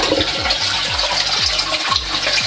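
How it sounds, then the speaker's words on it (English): A Japanese apartment toilet flushes as the tap above its cistern runs, giving a loud, continuous rush of water with repeated gurgling surges close by. "But what a really nice feature is that when you flush,"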